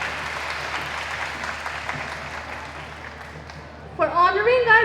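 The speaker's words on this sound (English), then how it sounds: "Again, a big round of applause for everyone," Audience applause at a gala, a broad clapping wash that gradually thins out, after which a voice cuts in loudly near the end.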